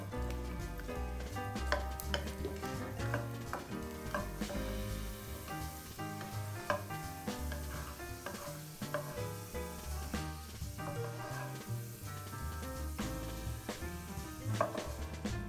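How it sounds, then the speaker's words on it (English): Five garlic cloves sizzle in two tablespoons of hot cooking oil in a wok, a steady crackling fry with occasional scrapes and clinks of a utensil stirring against the metal, with no talking. "Heat 2 tablespoons of cooking oil and saute 5 cloves garlic until it's golden brown."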